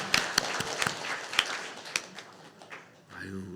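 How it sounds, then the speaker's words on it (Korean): A church congregation applauding at a Christmas service, a scatter of individual claps of varying loudness that thins out toward the end, with a voice coming in at the close. "다시 한번 예수님이 이 땅에 태어난 성탄을 기쁜 함성으로 축하하면서 박수로 영광 드립니다."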